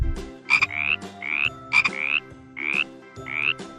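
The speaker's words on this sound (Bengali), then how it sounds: "ইঙয়ে ব্যাঙ।" Frog croaking in five loud, close calls, each a short rising throaty croak spaced roughly evenly, alone with no talk.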